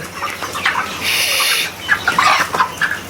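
Broiler chickens, thirty days old, cluck and squawk while they are weighed on a hot day at a farm shed. The calls come as several short, close bursts, with a longer stretch of flapping or rustling in the middle.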